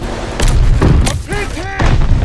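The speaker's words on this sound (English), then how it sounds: "Stun grenade! Throwing grenade!" Heavy booming blasts and thuds of a stun grenade and combat gunfire in Call of Duty Vanguard, loud and close, with voiced game callouts mixed in.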